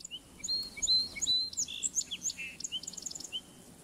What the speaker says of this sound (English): I think I hear a sparrow in the tall grass.